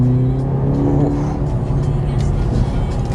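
A 2024 Mercedes GLC 43 AMG SUV with an electrified four-cylinder turbo accelerates on the road, a steady, loud engine drone heard from inside the cabin that holds throughout, with a possible voice faintly underneath.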